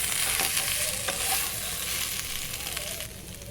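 Soybean chunks fry steadily in hot oil, a close, continuous crackling sizzle with light stirring scrapes, without any voices.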